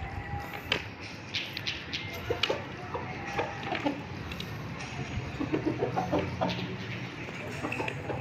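Hens clucking and pecking at feed on a poultry farm, with busy overlapping clucks and scratching through the whole stretch and a few louder calls standing out.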